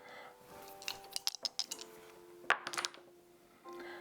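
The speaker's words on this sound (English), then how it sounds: "The dice make just a very particular thick sound." Dice drop and clatter onto a wooden backgammon board, giving a quiet run of sharp clicks and knocks followed by a few faint rattles.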